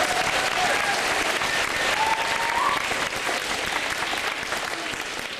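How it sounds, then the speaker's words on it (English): A standing crowd at a school event in Wetaskiwin, Alberta gives sustained applause, a dense, even wash of clapping heard throughout with no speech over it. "Could everybody stand up and give them a round of applause?"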